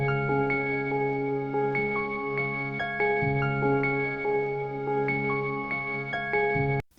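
A single-bar synth pattern on a Teenage Engineering OP-XY, looping tonal notes stepping through a repeating melodic figure over a steady bass line, clean and upfront with no voices, ending with a sudden cutoff.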